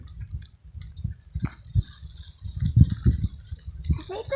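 Water dripping and spattering off wet plants shaken by hand on a foggy winter morning, a patter of irregular drops and small splashes, some clustered, close to the microphone.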